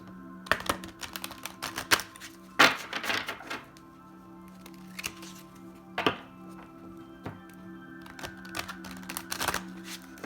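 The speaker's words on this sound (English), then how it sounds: "Let me shuffle the cards." Oracle cards riffle and slap together in several quick bursts, crisp flutters separated by soft handling noises and short pauses, close and fairly quiet.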